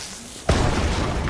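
Incendiary ball exploding in the video game Enshrouded: a single sudden muffled boom that rises sharply and then settles into a lingering, crackling rumble.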